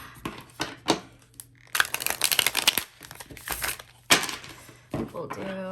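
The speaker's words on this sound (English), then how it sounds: "A little bit hard to shuffle though." Tarot cards being shuffled by hand, a stiff new deck giving bursts of crisp riffling and flapping with short pauses between, close up, with a person speaking in between.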